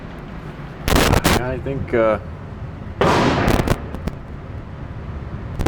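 Gunshots from an AR-15 rifle fitted with a muzzle brake, built from a Palmetto State Armory kit, heard outdoors as a few sharp loud reports spaced apart, with a person speaking briefly between them.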